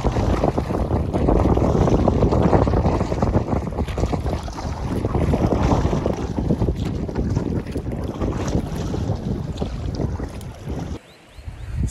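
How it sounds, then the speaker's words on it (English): Strong wind roars and buffets across an open lake in Maine's Rangeley Lakes region, with water churning around a canoe; the gusts stay loud and continuous throughout, easing slightly near the end, with no voices. "The other side of that island is getting pounded with wind."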